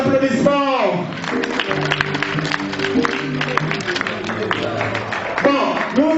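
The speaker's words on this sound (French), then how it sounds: "Sous vos applaudissements." Audience applause at a children's drawing festival, a moderate wash of clapping mixed with background music and brief voices at the start and end.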